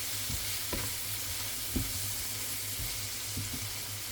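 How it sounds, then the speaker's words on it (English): Onion fries in a pot with cayenne seasoning for a one-pot chicken and rice dish, a soft steady sizzle broken by several light scrapes and taps of a utensil stirring, close and fairly quiet. "cook the onion for about 1 to 2 minutes"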